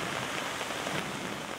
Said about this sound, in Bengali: রাজধানীতে মঙ্গলবার সকাল থেকে থেমে থেমে বৃষ্টি হচ্ছে